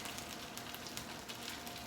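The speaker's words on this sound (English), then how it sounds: "hear that sizzle?" Steady, crackling sizzle of Brussels sprouts frying in a hot pan, continuous and close with faint popping throughout.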